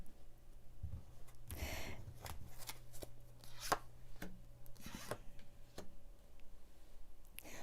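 Tarot cards are shuffled by hand, giving a run of close, soft papery riffles, rubs and light taps in uneven bursts at low volume, with no speech over them.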